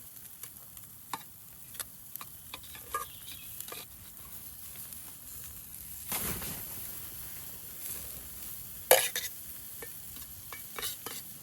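Sirloin steak, an 8 oz cut, frying in butter on a FireBox stove, giving a quiet, steady sizzle with scattered ticks and pops and a louder burst of crackle partway through.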